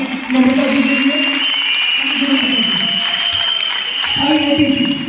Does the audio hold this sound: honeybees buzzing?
no